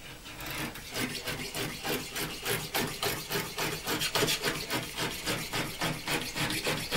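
Knife trimming edge banding tape along the side of a homemade cabinet panel, a steady rapid rasping scrape repeated in quick even strokes, close and fairly loud with no speech.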